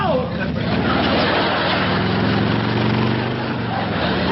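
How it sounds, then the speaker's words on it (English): A motorcycle ridden around a house and driveway makes a continuous, rough engine drone, mixed with excited voices talking over it. "Some crazy kid is racing up down your driveway on a motorcycle"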